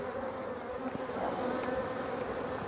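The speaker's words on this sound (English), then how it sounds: "I've got a good group of bees right here in the corner" Honey bees buzz in a steady, close drone that holds evenly throughout with no pauses.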